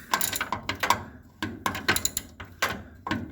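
A 3/8 drive ratchet wrench spins a rear shock bolt loose, giving a close series of rapid metallic clicks in uneven bursts with short pauses between.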